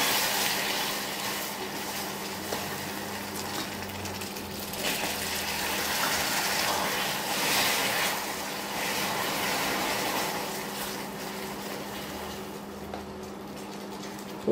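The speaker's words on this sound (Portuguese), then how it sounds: "Agora eu vou adicionar meia xícara de água com o fogo bem baixinho, mas eu vou colocando aos poucos porque espirra." Half a cup of water is poured a little at a time into hot caramel over very low heat, giving a steady hissing, bubbling rush that rises and falls for several seconds with no talking.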